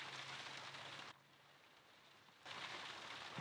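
Steady rain hiss in a Sherlock Holmes Crimes and Punishments game scene, a continuous wash that drops quieter for about a second in the middle and then returns.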